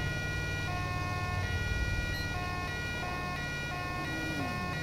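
An ambulance siren in the video game GTA 5 wails with steady repeating electronic tones. It sits at a moderate distance, fairly quiet against a constant low background rumble.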